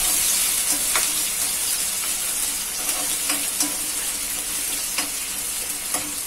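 Finely chopped onion and capsicum sauté in a pan with a bright, steady hiss of frying oil, punctuated by occasional light taps of a spoon stirring, close up and without speech.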